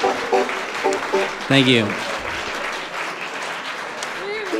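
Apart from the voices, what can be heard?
audience applause after a joke at a bluegrass concert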